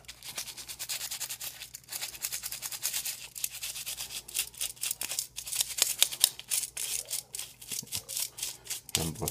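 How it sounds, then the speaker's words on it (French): A toothbrush scrubs leftover shaving foam from a brush off a Razorock Mudder Focker razor, giving steady close bristly rubbing strokes in quick repeated bursts, with no talk. "pour le rasoir, bonne vieille brosse à dents avec le restant de mousse qui était sur le blaireau"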